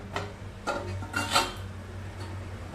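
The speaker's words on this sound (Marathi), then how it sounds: "नाश्त्याचं मिश्रण आपण वाफवण्याकरता ठेवलेलं. झाकण उघडून बघूया." A lid is lifted off a pot of steamed mung bean breakfast batter, giving a few light metallic clinks and scrapes over a low background hum.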